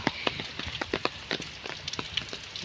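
Sudden afternoon rain falls at the Bangladesh National Zoo in Dhaka, a close patter of irregular drops tapping on a nearby surface with no voices.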